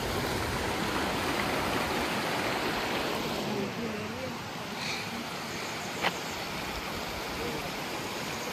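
Water rushing steadily at a dam where a cascade usually flows, a dense broadband roar filling the whole clip, with a single brief sharp tap near the end.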